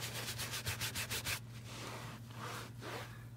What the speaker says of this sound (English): you want to wipe off the excess really quick before it gets soaked